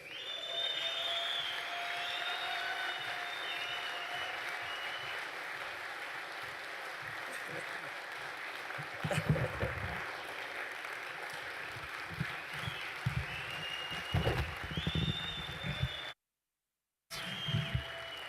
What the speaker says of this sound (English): I want you to welcome him with a round of applause.